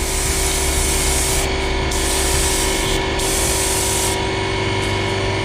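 A spray can paints the outside of headlight parts for a 1946 Dodge Power Wagon RC wrecker truck. The hiss is loud, close and continuous, with a few slight breaks in the spray.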